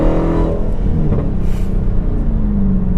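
A Dodge Hellcat fitted with a velocity stack intake pulls hard under acceleration, its loud continuous engine roar and deep rumble filling the whole stretch without any talk.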